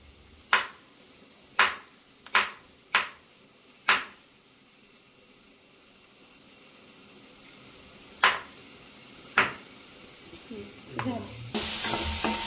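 Finely chopped okra (bhindi) being sautéed in a pan, with a soft low sizzle under sharp spatula clicks and scrapes against the pan, five in quick succession, then two more after a pause, followed by louder clattering.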